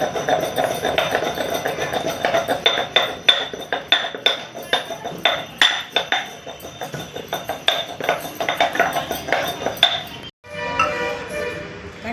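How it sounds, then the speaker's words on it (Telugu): Henna leaves being ground by hand in a stone mortar give repeated knocking, scraping strokes in an irregular rhythm for about ten seconds before stopping, with faint voices in the background. "ఇలా రోలు పెట్టుకొని మనము నూరుతూ ఉంటే కనుక చాలా బాగుంటుంది"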